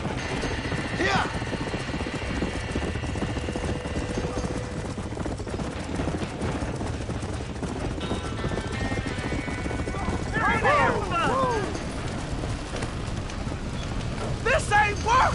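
Horses trapped in a burning barn in the video game Red Dead Redemption, with hooves clattering and a couple of shrill whinnies rising near the end, amid steady fire and chaos noise with voices talking over it.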